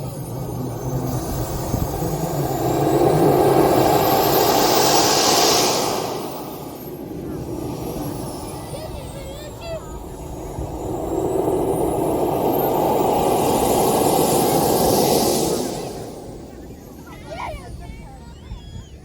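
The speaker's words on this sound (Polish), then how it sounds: "ten samolot rozpędzi się do bardzo dużej prędkości" A propeller airplane engine roars, swelling loud, easing back, then surging up again before fading, with steady engine drone throughout.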